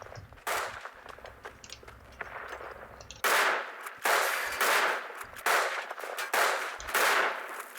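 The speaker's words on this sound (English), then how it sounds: "Look how long it's taking to reload this bolt action" Bolt-action rifle gunfire in the WWI shooter Verdun: sharp, loud shots repeat about every second, with metallic clanks of the bolt being worked between them, over a low rumble of battle.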